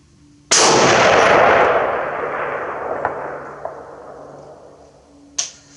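A single sharp, loud shot from a Springfield M21 rifle with an ART II scope fired at a 600-yard target, followed by a long rolling echo that fades, then another brief crack near the end.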